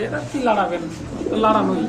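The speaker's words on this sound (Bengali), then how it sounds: "এটা একটা মাদি কবুতর" Female Mundian pigeon cooing in soft, repeated throaty bursts, close and fairly loud, over a busy background with faint voices.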